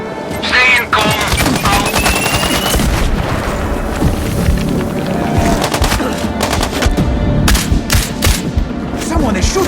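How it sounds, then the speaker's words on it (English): Rapid bursts of automatic gunfire and single shots crack loudly and almost without pause in the video game Sniper Ghost Warrior Contracts 2, with booming impacts mixed into the dense firefight. "Someone is shooting nearby!"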